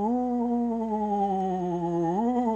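A voice imitates a ghost's ooh: one steady, sustained hooting tone held for a couple of seconds that slides upward near the end, close and moderately loud with nothing else around it.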